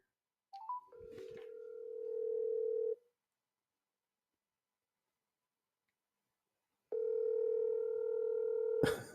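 A phone call rings out on speakerphone, with two long, steady electronic ringing tones separated by silence. A few faint clicks come just before the first tone, and a sharp click follows the second.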